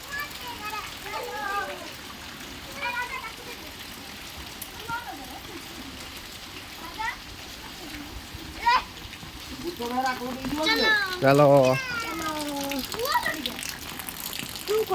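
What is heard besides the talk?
heavy rain falling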